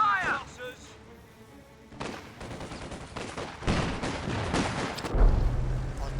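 Scattered gunfire and explosions from the Company of Heroes strategy game fill the mix in dense bursts, with a heavy blast near the end, all under the busy game soundscape.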